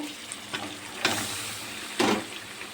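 Pieces of boal fish go into a pan of hot spiced oil with a couple of sharp splashing sizzles over a steady background hiss, close and brief.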